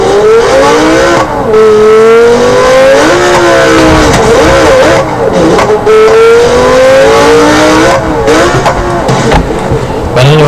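A supercar engine in BeamNG.drive revs hard and loud, rising and falling in repeated sweeping climbs with gear changes, close and dominant throughout.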